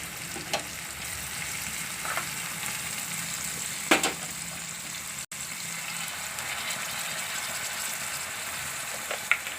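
Peas and cowpeas fry in hot oil with tomatoes, giving a steady, even sizzle throughout, broken by a couple of faint clinks from stirring.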